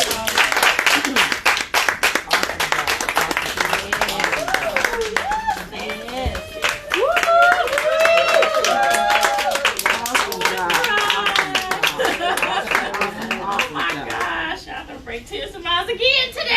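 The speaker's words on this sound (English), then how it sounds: "Give her another round of applause." Audience applause and clapping at an honorary nurses' breakfast, a sustained dense round of hands lasting throughout with some voices mixed in.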